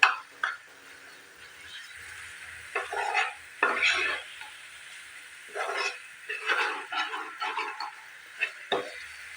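Masala frying in a pan and being stirred with a utensil, giving intermittent scraping and sizzling bursts between quiet gaps, close by and moderately loud.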